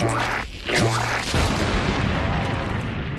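Cartoon exploding gum going off with a loud booming burst, followed by a rumbling, crackling tail that hangs on for a few seconds.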